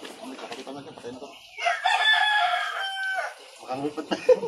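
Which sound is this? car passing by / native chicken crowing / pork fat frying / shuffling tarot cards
native chicken crowing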